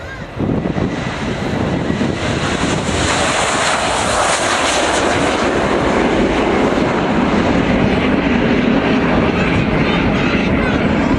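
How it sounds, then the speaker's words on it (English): Roar of a Royal New Zealand Air Force Boeing 757-200 jet flying a display at an airshow, a loud continuous broadband engine rumble that swells and holds steady throughout, with no talk. "the Boeing 757-200 of the Royal New Zealand Air Force"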